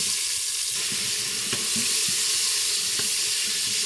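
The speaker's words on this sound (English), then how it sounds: "I just put a little bit of water," Water poured into a hot pan while cooking oxtail curry hisses and sizzles steadily, with a loud broadband rush and a few faint clinks, all close to the microphone.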